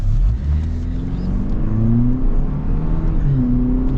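A 2026 Toyota 4Runner TRD Pro engine pulls under acceleration, a steady loud low drone from inside the cabin with rising and falling tones as it gains speed.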